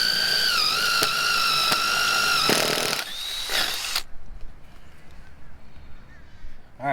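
A power drill bores a 1/2 inch hole through a 2x4 outdoors in a loud, whining burst that stops abruptly about halfway through, leaving quieter outdoor background.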